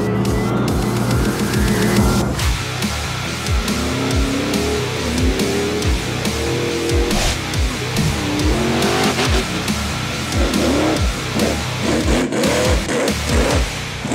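A monster truck engine revs and roars continuously, rising and falling in pitch, with a rough, powerful rumble throughout.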